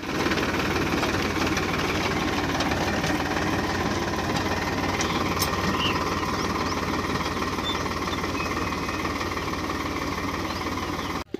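A tractor engine works a potato harvest in a field, its loud, steady knocking rumble running unbroken for the whole stretch before cutting out at the very end.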